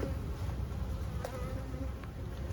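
Honey bees in a packed hive that is ready to swarm, with queen cells present, give off a steady, fairly faint buzzing hum from start to finish.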